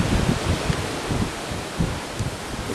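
Wind gusting and rustling outdoors by a reputedly haunted house on Hilborn Avenue in Vallejo, a steady broadband whoosh with low buffeting rumbles swelling and easing throughout, fairly close and continuous, with no talk.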